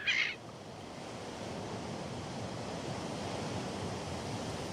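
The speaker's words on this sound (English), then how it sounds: "Waves sweep the pier of one of the small towns on the shore of the lake." Strong wind drives waves across a small-town pier on a lakeshore, a steady broadband roar of surf and gusting air throughout, with a brief brighter splash or cry at the very start.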